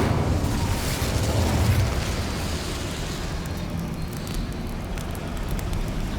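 In the Hogwarts Legacy video game, an Incendio fire spell is cast, giving a loud continuous roaring, crackling burst of flame that surges at first and then holds steady, with no speech.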